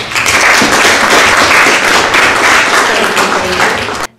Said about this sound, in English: round of applause to Julie Clark.